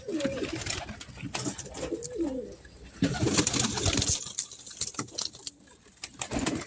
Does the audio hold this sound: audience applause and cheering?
no